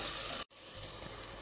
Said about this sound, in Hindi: इसमें डालेंगे हम जिंजर गार्लिक पेस्ट 1 टीस्पून। अब इसको भी अच्छे से पका लेंगे।